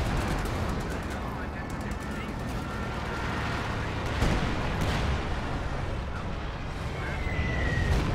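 An artillery bombardment with gunfire rages on a hill in the strategy game Company of Heroes 2, a dense, continuous rumble of blasts and rattling shots that stays fairly distant and unbroken throughout.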